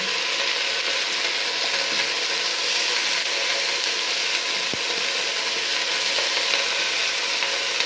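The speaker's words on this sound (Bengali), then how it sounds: "আর কিছুটা কাঁচামরিচ ভেজে দিচ্ছি, আর একটু টমেটো কুচি" Green chilies and chopped tomato fry in hot oil for a potato curry, giving a loud, steady sizzle that runs without a break, with no voices.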